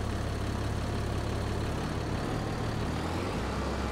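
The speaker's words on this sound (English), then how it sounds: "Start our tractor." A tractor engine in the Farming Simulator game runs at a steady low, throbbing idle, loud and continuous throughout, with no speech.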